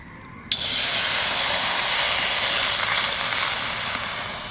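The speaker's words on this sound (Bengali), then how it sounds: "এদিকে কড়াইতে একটু সামান্য জল দেব।" A little water is poured into a hot kadai while homemade jujube pickle is being made. A sudden loud burst of hissing steam starts after a short pause, then slowly fades while staying close and continuous.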